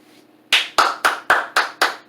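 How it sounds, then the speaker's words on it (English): Six sharp, close hand claps in a quick, even rhythm following a brief quiet moment, loud and distinct with no voices. "Quick clap it up. Quick clap it up. Hey, you! Clap it up."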